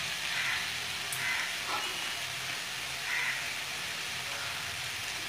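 Cabbage and potatoes fry with spices in a pan for a Bengali dish, a continuous dense hissing sizzle, close and even, with faint stirring scrapes and no talk.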